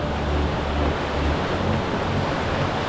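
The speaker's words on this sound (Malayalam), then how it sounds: "നമ്മൾ ഈ വെള്ളച്ചാട്ടത്തിൻ്റെ അടുത്ത് എത്താറാകുമ്പോൾ തന്നെ ഭയങ്കര ഒരു സൗണ്ടാണ്" A waterfall at Thoniparra roars as a steady, dense wash of rushing water that stays loud and unbroken throughout, heard close up with no voices.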